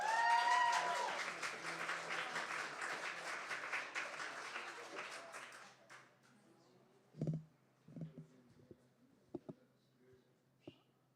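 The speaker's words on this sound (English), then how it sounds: "Give a warm round of applause for Connie, ladies and gentlemen." Warm audience applause at a spoken word night in a cafe, a dense wash of clapping for about six seconds that fades out, followed by scattered knocks and small handling sounds in a quiet room.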